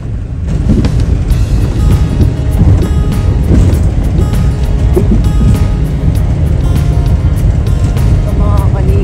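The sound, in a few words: strong sea waves on the shore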